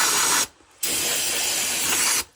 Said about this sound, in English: So this is brake clean.